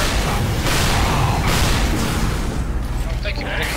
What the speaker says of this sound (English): Time to just launch rockets into the base.